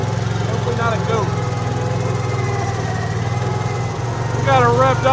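A cheap used skid steer's engine drones loudly and steadily as the machine travels, its low throbbing rumble continuous throughout, with brief indistinct voices rising over it near the start and end.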